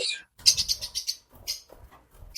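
Pet lovebirds and cockatiels chirping in a series of short, bright, high tweets in quick bursts, fairly close, with a few quiet pauses between calls.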